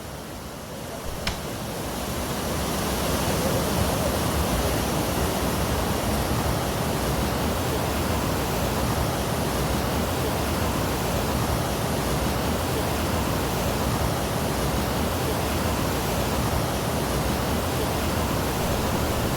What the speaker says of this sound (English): So the water is flowing quite extensively